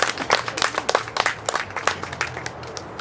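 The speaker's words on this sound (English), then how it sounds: "Come on, Jasani, give her a round of applause." A crowd at a summer camp award ceremony claps warmly for an award recipient, with steady, dense applause that carries on throughout at moderate loudness.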